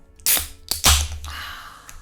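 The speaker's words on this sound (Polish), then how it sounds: "SMS przyszedł." A text message notification sounds in a room as a few sharp, bright clicking bursts in quick succession, then a quieter tail with a faint tone.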